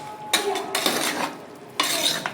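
Chicken sukka being stirred with salt in a pan, giving a few scraping, clinking utensil strokes against the metal in short bursts with pauses between, close by and fairly quiet.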